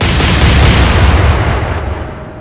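Heavy naval guns booming in the Atlantic Fleet video game, a loud, deep broadband blast that swells and then rolls off into a long, fading rumble, with no voices over it.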